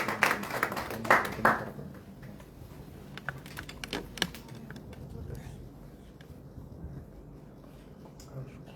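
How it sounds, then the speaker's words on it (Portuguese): Scattered claps from an audience in Mozambique greet a writer, a short burst of applause up front that thins to sparse claps, with people talking faintly in the background. "Uma forte salva de palmas para o nosso escritor."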